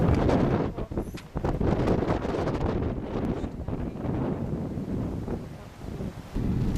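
Gusty wind buffets the microphone on a winding mountain road up Mount Wellington above Hobart, Tasmania, a loud, continuous rumbling roar that rises and dips throughout with no speech.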